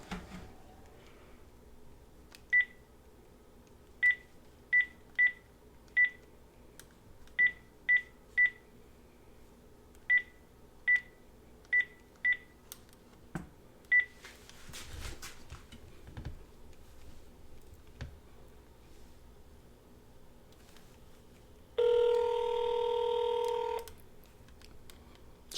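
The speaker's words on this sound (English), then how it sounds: "It's ringing." A touch-tone telephone dials a number as a string of about fourteen short, evenly spaced beeps over a quiet room hum. A few seconds later a single louder ringing tone sounds on the line.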